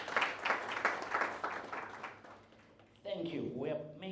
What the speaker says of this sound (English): Unprompted applause for a change.